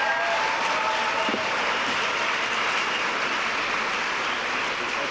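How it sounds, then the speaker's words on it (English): Graduation ceremony applause rolls on as a continuous, steady wash of clapping from a large audience, heard at some distance with no speech over it. "Let's give them a round of applause."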